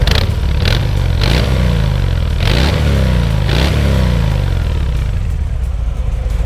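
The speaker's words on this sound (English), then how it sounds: "it's the smoothest running, most responsive, sweetest revving stock 114 cube I've ridden" A Harley-Davidson FXDR with a stock 114 cubic-inch engine, drag-style air intake and redesigned exhaust rumbles loud and close, revving in repeated swells with a deep throbbing beat and no talk.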